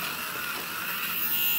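A small battery-only lint remover, a fabric shaver bought at a 100-yen shop in Japan, runs with a steady high-pitched electric whir up close, swelling slightly louder toward the end.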